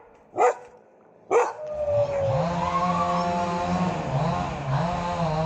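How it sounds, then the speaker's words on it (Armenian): A mother dog gives two sharp, loud barks close by, then a long whining, moaning vocal tone carries on steadily after them. "բնականաբար մայր շունը հաչում էր"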